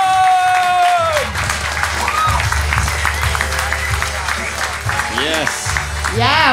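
Live podcast audience applauding improv performers in a Swedish theatre setting, loud sustained clapping and cheering close by, with voices and stage talk mixed in.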